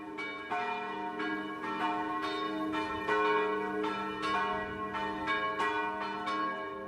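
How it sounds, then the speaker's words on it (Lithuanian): Christmas church bells ring in a steady, rhythmic series of strikes, each note sustaining and overlapping the next, with no other sound over them. "kalėdiniai varpai."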